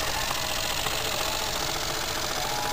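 A Jensen 20 toy steam engine with two boilers runs steadily at about 900 RPM, a loud, close, continuous fast mechanical chatter and buzz with no pauses.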